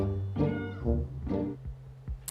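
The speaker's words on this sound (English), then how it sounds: "a colossal kitty, there's no other way to put it, getting ready for his hot cat summer" A very large, heavy house cat meows several times in quick succession, close and moderately loud, with a few soft thumps and no talk.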